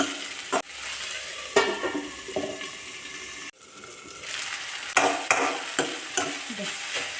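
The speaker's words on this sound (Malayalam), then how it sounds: "തക്കാളി ചേർത്തിട്ട് ഒരു മിനിറ്റ് നന്നായി വഴറ്റി" Tomatoes sauté in a pan for a green peas curry, with a steady close sizzle and the scrape and clatter of a spoon stirring at intervals.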